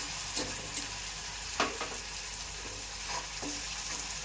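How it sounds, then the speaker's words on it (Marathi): Tomato puree sautéing in a pan for a vegetable pulao, a steady close sizzle with a few soft stirring scrapes and clinks, fairly quiet throughout. "त्यानंतर आता त्यामध्ये आपण टोमॅटो प्युरी टाकून घ्यायची आहे"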